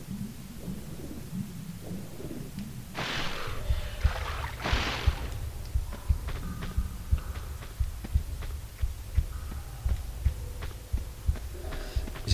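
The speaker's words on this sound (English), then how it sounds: "Is it the ship that's got a heartbeat?" A steady, low thudding heartbeat pulses repeatedly in the 40 Fathoms level of Tomb Raider II, a submerged shipwreck area, with rumbling ambient game noise and a couple of louder whooshing swells early on.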